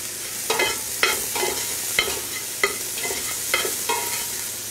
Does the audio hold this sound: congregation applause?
no